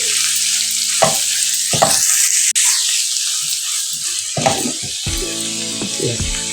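Onions fry in a pan with turmeric in a continuous sizzle. Several sharp stirring scrapes and clacks of a spoon against the pan break through it.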